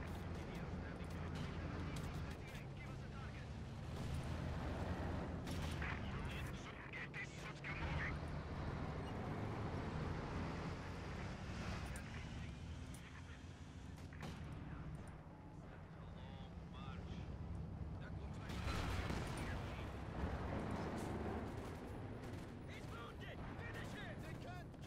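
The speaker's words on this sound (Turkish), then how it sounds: "Tank sesi duyuyorum hiç hoşuma gitmiyor." In a Company of Heroes 2 four-versus-four battle, tank engines rumble amid booming artillery and gunfire, with a dense, continuous roar of explosions and shots and occasional voices underneath.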